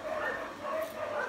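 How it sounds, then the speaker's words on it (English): Unhappy puppies fresh from a bath in a grooming shop whimper and yip from the next room, faint and muffled, with thin whining tones sustained through the short stretch. "Got some unhappy puppies in the next room in the grooming shop."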